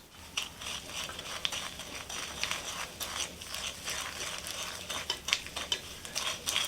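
A spoon stirs molasses into a creamed butter and sugar mixture for old-fashioned brown bread, giving soft, repeated scraping and sticky swishes against a bowl, quiet and close, with no talking.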